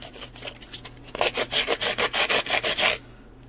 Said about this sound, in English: Get a piece of sandpaper, like 80 grit, and just rough it up pretty good.